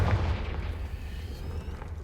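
A Confringo spell explodes in the Hogwarts Legacy video game, a single close, heavy boom that gives way to a low rumbling tail fading over two seconds, with no talking.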